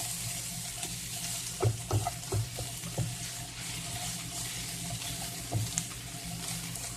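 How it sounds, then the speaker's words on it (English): Onions and garlic sizzle steadily in a hot pan, a constant close frying hiss broken by a few soft knocks of stirring. "Those onions and garlic, you just want to pour them over here like so. Like I've done. Go ahead and get the sauteing that around."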